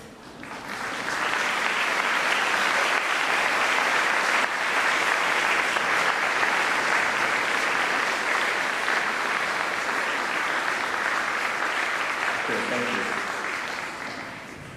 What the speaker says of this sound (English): Please could you turn to the people who have accompanied you today and give them a round of applause.